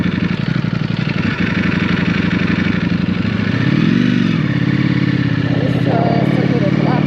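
A Ducati V4 motorcycle engine runs close by with a loud, steady rumble, its pitch rising and falling partway through as it revs, while someone talks over it.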